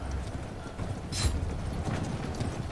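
Mounted outriders in the Conqueror's Blade video game gallop near a siege tower, their hooves making a continuous, fairly loud clatter over steady battle ambience.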